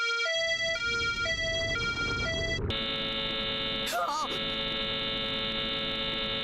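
A traffic signal melody plays from a phone in a video game, a loud clear sequence of electronic tones that cuts off abruptly and gives way to a loud, sustained buzzing drone.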